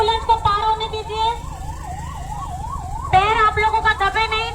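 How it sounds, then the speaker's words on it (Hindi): An ambulance siren wails loudly and close as it pushes through a dense crowd at a political road show, its rapid rising-and-falling yelp cycling continuously over murmuring people and shouts. "देखिए एम्बुलेंस आ रहा है, थोड़ा सा एम्बुलेंस को पार होने दीजिए।"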